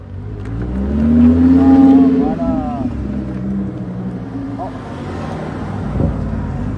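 A rally car engine revs up loudly, swells to a peak and then settles to a rough idle, while people talk over it at a rally event.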